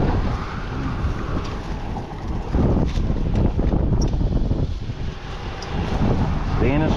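Strong wind blows outdoors at a roadside road construction sign, a steady broadband rush with gusty surges that fills the whole clip, close and loud against the microphone.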